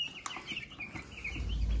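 Hens clucking softly in a backyard coop, a few short close clucks with a low rumbling hum building underneath.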